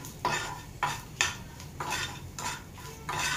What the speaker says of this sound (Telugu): ఇవి ప్రాపర్గా మిక్స్ చేసుకోండి